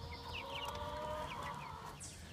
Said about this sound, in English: There's my little chickies.